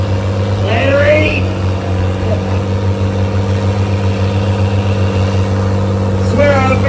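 A heavy truck engine roars steadily on a tug pad at a pulling event, a loud sustained drone with a deep constant hum, as someone shouts over it.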